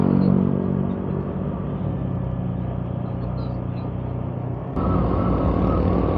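A vehicle engine held at high revs on a hill road, roaring loudly through its exhaust pipe in a steady, continuous drone, with a sudden shift in tone near the end.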